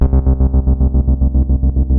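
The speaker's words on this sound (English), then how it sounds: "And I'm going to send my harp's bass pickup through a tremolo." A low, harmonically rich plucked bass tone from a harp's bass pickup run through a tremolo pedal pulses rapidly and evenly throughout, with no voices.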